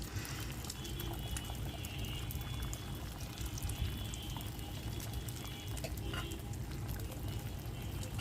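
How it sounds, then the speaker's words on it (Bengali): Remaining batter is poured into a mini rice cooker, a soft continuous liquid pour with faint bubbling, close and fairly quiet, steady throughout with no talking. "এখন বাকি যেটুকু আছে সেটুকু ঢেলে দিচ্ছি"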